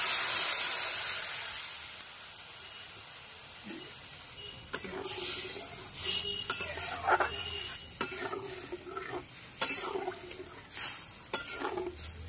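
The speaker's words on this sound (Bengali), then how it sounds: "এবার জল দিয়ে দেবো।" Water hits a hot pan of amra (hog plum) chutney with a hissing sizzle, followed by scattered clinks and scrapes of stirring against the pan.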